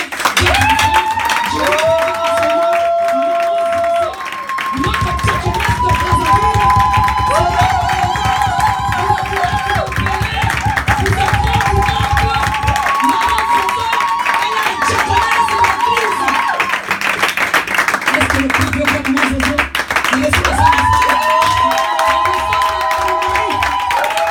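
A church congregation applauds and cheers loudly and continuously over a sustained organ or keyboard chord, with a voice calling out over the crowd and waves of clapping swelling and receding.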